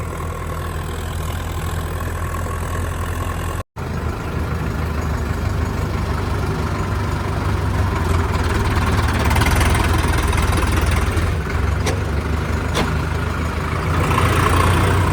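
Tractor engine running steadily on a farm trip toward Rajpura, a loud, continuous low diesel drone close by with a brief dropout early on, no voices.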